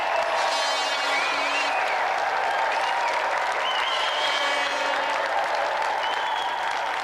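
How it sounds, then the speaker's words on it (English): A studio audience at a 1993 television games show applauds in a dense, steady wash of clapping that fills the whole stretch, with music faintly audible beneath it. "So let's have another round of applause for our special guest tonight, Gordon Burns!"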